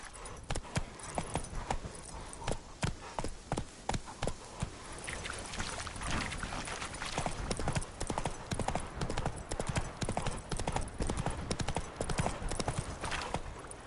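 Roach, the horse in The Witcher 3, gallops in a fast, steady run of close, crisp hoofbeats that continue throughout, with a faint whinny.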